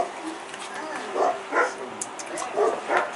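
Dog barking indoors: several bark-like yips in short uneven bursts, fairly close, with voices talking in the background.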